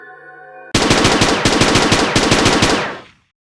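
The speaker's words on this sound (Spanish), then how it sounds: "En ese instante, un disparo resonó en los alrededores." A burst of rapid gunfire from Kamen Rider Garren's Gauss Absorb rings out suddenly after a faint hum, loud and sustained for about two seconds in quick repeated shots, with a short break, before cutting off and fading.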